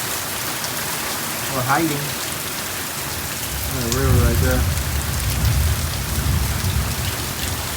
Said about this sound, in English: We got caught on the rain.